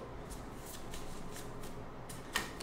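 Gypsy fortune-telling cards are shuffled by hand, a quiet continuous riffle of soft card rustles with a sharper snap near the end, close and without talk.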